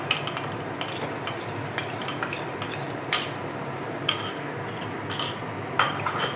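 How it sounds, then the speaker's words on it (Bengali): Tomato paste being fried and stirred for chicken kosha, a steady low sizzle broken by regular clinks and scrapes of a utensil against the pan, close, with no talking. "টমেটো কষানো হচ্ছে।"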